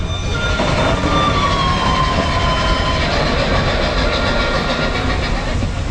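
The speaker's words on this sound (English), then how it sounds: "Big Thunder Railroad." Big Thunder Mountain Railroad ride train at Magic Kingdom rolling past with loud clattering wheels and screeching metallic squeals, steady and close throughout.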